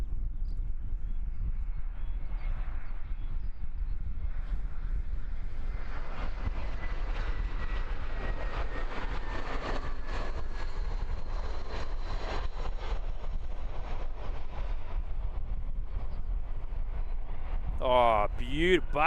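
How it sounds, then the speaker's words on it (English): An Air New Zealand A320 airliner landing at Christchurch Airport on a windy evening, a distant rising jet roar swelling in the middle and fading, with wind noise throughout and brief voices near the end. "But rise on our A320 coming in."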